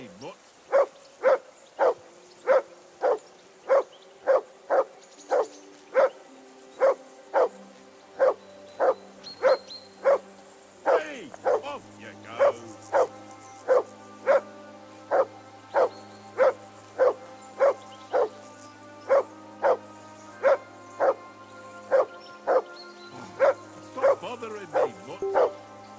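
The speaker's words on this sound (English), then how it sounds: "Call off that mutt of yours!" A dog in the video game Kingdom Come Deliverance II barks in a steady, loud series of sharp yaps, roughly one per second, throughout, with a low drone and brief character voices underneath.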